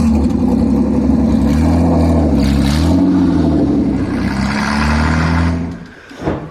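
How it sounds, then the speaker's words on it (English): A V6-swapped Toyota MR2 with no muffler runs extremely loud up close, its engine note rising and falling through revs before cutting off sharply near the end. "Obviously, you can see there's no muffler on the car and it is stupid loud."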